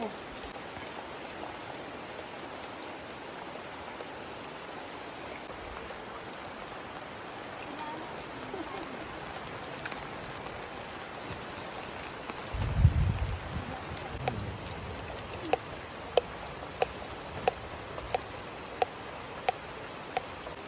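Steady rain hisses continuously, with a low rumble midway and a series of sharp drips or taps toward the end.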